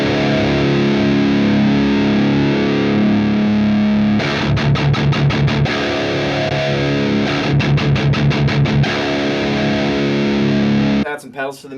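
An electric guitar plays through a Randall Century 200 amp with heavy distortion: sustained thick chords alternating with bursts of rapid chugging palm-muted notes, loud and close, ending with a sharp cutoff.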